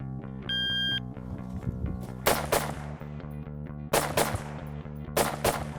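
Rifle fitted with an EOTech red dot sight fired at an outdoor range, several loud, sharp gunshots in quick succession that ring out over a steady electronic beep and hum.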